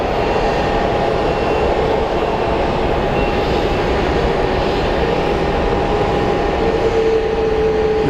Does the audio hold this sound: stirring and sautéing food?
no